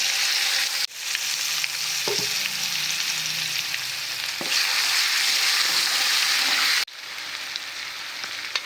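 Garlic, green chili and ginger paste sizzles loudly in hot ghee with asafoetida, a dense steady crackle running throughout with a few brief scrapes and clinks of stirring.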